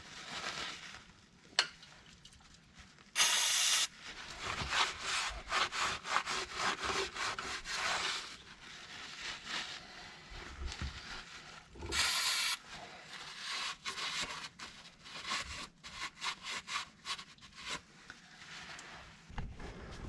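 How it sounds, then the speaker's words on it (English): Scrubbing the cast differential housing of an S197 Ford Mustang with brake cleaner gives close, rapid rasping strokes in an uneven rhythm, broken by two brief, louder hissing bursts. "Now you want to come through with some brake clean and clean this surface up really good as you can get it"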